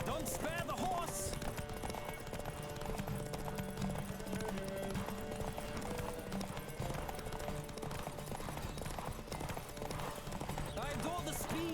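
In a horse race in the video game The Witcher 3 on PS5, hooves gallop in a fast, steady drumming rhythm close by and loud, with voices talking over them.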